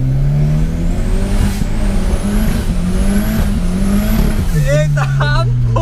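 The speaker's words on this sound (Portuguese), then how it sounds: "o barulho do carro" A turbocharged car engine revs loudly from inside the cabin, its pitch rising and falling in repeated sweeps before a sharp change near the end, with speech faintly mixed in.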